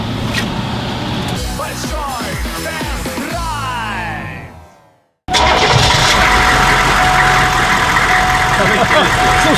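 A Hummer H1 engine cranks and catches, then settles into a loud, rough idle, with people talking over the start-up.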